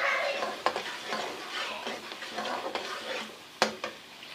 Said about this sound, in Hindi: यहाँ पर प्याज हमारी तकरीबन हो रही है फ्राई और यहाँ पर मैंने जो बादाम का पेस्ट बनाया था वो इसमें शामिल कर देते हैं